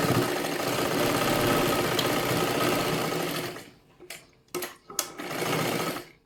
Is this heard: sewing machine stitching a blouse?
yes